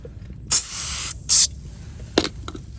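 Two quick hissing sprays of Sprayway glass cleaner from a pump bottle onto a Honda CR-V wheel, close up, followed by a few faint taps and handling noises.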